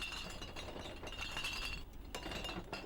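Empty glass bottles clink and knock together during collection for recycling in a Singapore neighbourhood, a dense continuous rattle of bright glass contacts with a few sharper clinks, nearby and fairly loud.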